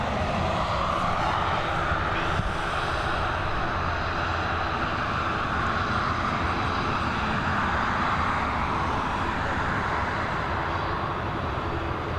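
Airbus A320neo jet airliner at Dublin Airport, a steady, loud engine roar that holds evenly throughout, close and dominant with no pauses.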